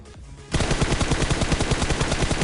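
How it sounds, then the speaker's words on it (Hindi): Automatic gunfire in the mobile battle game PUBG Mobile bursts in after half a second of quiet and keeps up as a fast, loud, even rattle of shots to the end, with no voices. "और भाई सामने बहुत तगड़ी फायरिंग चल रही थी"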